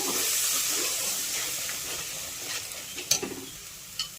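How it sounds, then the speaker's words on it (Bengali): Masala for a kakrol (spiny gourd) kalia is stirred in a pan with a splash of water, a soft close sizzle and scraping with a few sharper spoon knocks near the end. "আর অল্প একটু জল দিয়ে ভালো করে মশলাটা মিশিয়ে নেব"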